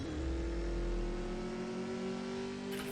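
Ferrari F40 engine in the racing game CSR2 revs hard and steady under acceleration, a loud continuous mid-pitched drone with a shift near the end, no voices.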